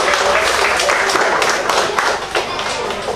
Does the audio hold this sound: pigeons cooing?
no